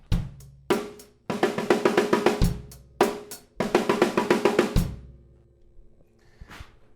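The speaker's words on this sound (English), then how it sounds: "for the 8-stroke fill that we're going to be doing, it'll sound like this." An eight-stroke fill on a drum kit in several separate bursts: quick even strokes rolling across the drums, each run closed by a cymbal crash or bass hit, played loud and close with short gaps.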